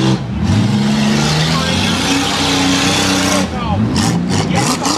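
Demolition derby heat cars roar with heavy, revving engines throughout, a continuous loud drone that swells and shifts pitch, with a few sharp thumps of collision near the end.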